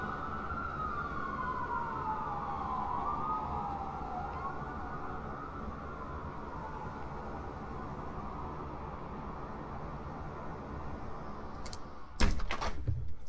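An emergency vehicle siren wails across a busy city street with a New York-like character, its rising and falling tone steady against constant traffic rumble, ending with a few sharp knocks.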